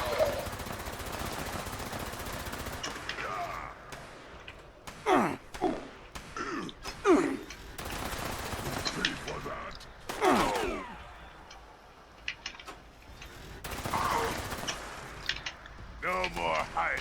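Heavy guns fire at a feral ghoul outside Westek in Fallout 76. Sharp bursts cut through a steady bed of game noise, with speech heard throughout.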